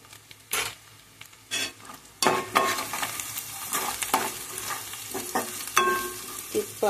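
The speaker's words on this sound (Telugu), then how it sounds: "తిప్పాలి." A spoon stirs cauliflower curry seasoned with turmeric and salt in a pan, giving intermittent scraping strokes over a soft, steady sizzle, with a few light clinks of metal against the pan.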